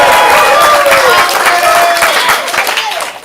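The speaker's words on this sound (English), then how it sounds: "If I say blue, applaud and cheer wildly." Loud audience applause and cheering at a ComedySportz Portland improv comedy show, a dense wash of clapping that holds steady and then starts to fade toward the end.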